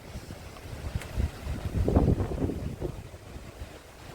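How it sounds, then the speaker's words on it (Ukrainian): Strong wind roaring and buffeting across the microphone, gusting louder in the middle before easing off, on a stormy day in Odesa. "Подивіться на дерева, який вітер."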